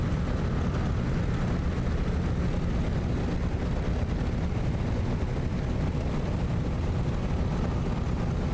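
A Carenado Cessna 195 taxis in Microsoft Flight Simulator, a steady low propeller-engine rumble running continuously at moderate level with no talk.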